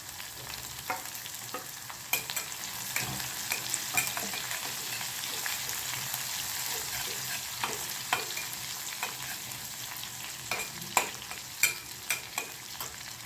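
Green chilies and crushed garlic frying in hot oil in a home kitchen pan, a steady close sizzle broken by scattered sharp clicks and scrapes of stirring, with no voices.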